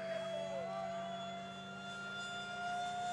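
An F-4 Phantom jet fighter making a flyby, heard as a faint, distant whining tone that sweeps in pitch early on and then holds as a thin, steady drone.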